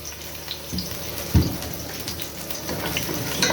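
Onion sautés in hot oil in a pan for lentil soup, giving a soft, even sizzle and crackle with one sharper clunk of utensil or pan early on, and nobody speaks.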